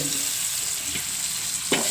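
Continuous close sizzling of food frying in a pan, with a brief knock of a utensil near the end.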